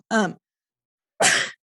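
One person sneezes twice in quick succession, a voiced intake burst followed about a second later by a sharper, breathier explosive sneeze, both close and loud.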